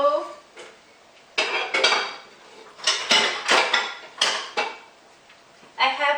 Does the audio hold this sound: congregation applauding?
no